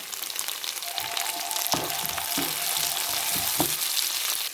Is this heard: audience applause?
no